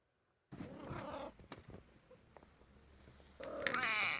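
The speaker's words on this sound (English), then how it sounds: "note the cat still demands food" A hungry cat meows insistently for food, a few close, drawn-out cries separated by quiet pauses, ending with a louder, higher meow.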